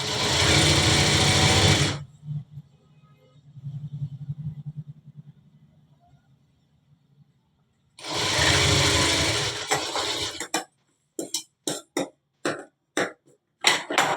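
A sewing machine stitches a shirt shoulder seam in two loud, close bursts of rapid whirring, separated by quieter handling of the fabric, then a string of short stop-start stitching bursts.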